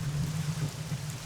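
Steady rain in a video game, a constant close hiss with a low droning band beneath it and no voices.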